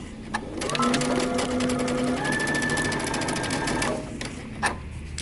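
A sewing machine stitches darts into pants fabric, a steady close run of rapid needle clatter lasting about four seconds before stopping, with a few faint clicks around it.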